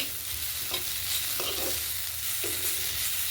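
Grated coconut stir-frying with Burmese greens in a village kitchen pan, a steady close sizzle broken by several soft scraping stirs, no voices.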